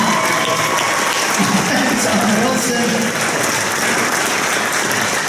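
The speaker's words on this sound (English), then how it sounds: "big round of applause" A convention crowd at a Star Wars panel bursts into loud sustained applause and cheering, with a voice briefly speaking over the clapping.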